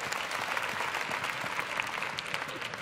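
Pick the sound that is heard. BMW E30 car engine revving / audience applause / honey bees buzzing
audience applause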